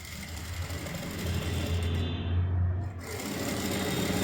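A sewing machine stitches piping onto cloth with a steady, close mechanical whir that rises in the middle and briefly eases before carrying on.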